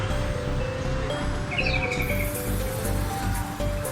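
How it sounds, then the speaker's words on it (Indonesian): Canaries chirp and trill in short bright phrases over a constant noisy hum at the Jambon poultry and bird market, a few birds singing at moderate distance. "Itu ada beberapa burung kenari juga masih dijajakan."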